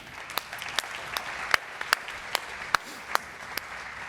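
Sparse applause at a Forbes demo day as a biotech CEO is welcomed, with a few distinct sharp claps spaced roughly evenly over quiet room tone, as if only a handful of people are clapping.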